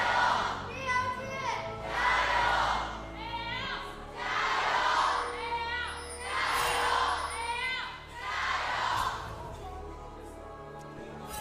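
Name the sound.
home crowd cheering at esports event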